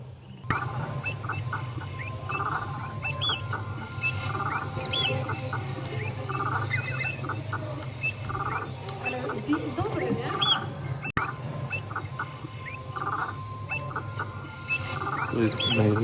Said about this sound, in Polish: Właśnie nagrałem piosenkę z ptaków